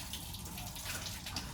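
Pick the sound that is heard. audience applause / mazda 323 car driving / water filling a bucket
water filling a bucket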